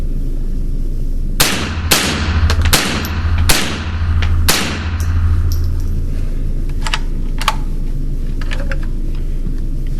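Unsuppressed shots from a Ruger 10/22 rifle firing Remington .22 ammunition ring out as five sharp, loud cracks about a second apart, followed by several fainter distant reports and trailing echoes.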